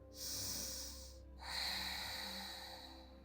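Deep breaths drawn in during a vinyasa flow yoga session: two long, close airy inhales through the nose, separated by a short pause, with no talking.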